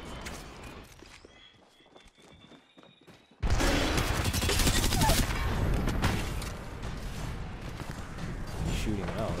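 Gunfire in the Apex Legends battle royale game: quiet footsteps and small sounds, then from about three seconds a loud, dense stretch of rapid shots and impacts, with a voice talking over the action.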